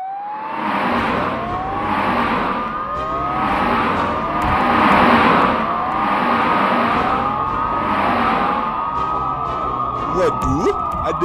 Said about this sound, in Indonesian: Kok banyak banget ambulan ya?